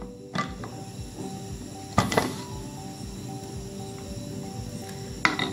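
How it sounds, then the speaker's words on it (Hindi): Metal pressure cooker lid is fitted and locked over cooking mutton trotters, producing a few sharp clanks and clicks, spaced apart, against a quiet kitchen background. "अब मैं प्रेशर कुकर बंद कर रही हूँ।"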